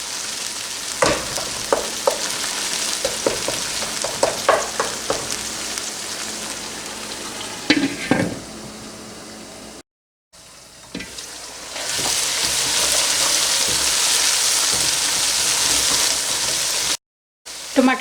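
Tomatoes and onions fry in a pan for a fish curry, with rhythmic spoon scrapes and clacks of stirring over a sizzle, then a louder, steady hiss broken by two brief silent gaps.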